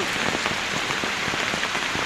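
Steady rain patters densely on a hard surface, an unbroken hiss with scattered drips throughout.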